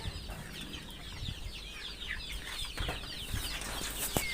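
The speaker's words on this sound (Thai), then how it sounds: "พวกนี้ก็จะเป็นลูกไก่ สายพันธุ์แท้จากประเทศของเราเลยนะครับ" Young chicks of a purebred native Thai chicken breed, two to four weeks old, give a steady run of high peeping chirps in a brooder during the rainy season, with faint rustling and a few soft knocks underneath.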